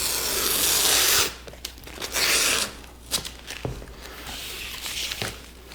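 Tape rips loudly off a roll in two long tearing pulls while being applied to boat canvas fabric, followed by softer pats and rubs as it is pressed down, close by.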